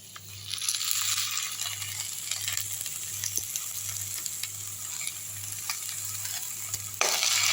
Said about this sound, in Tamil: நல்லா வதக்கி விட்டுருவோம் வதங்கினா கொஞ்சமாக ஆகிடுங்க ஒரே வதக்கில் வதங்கிடும்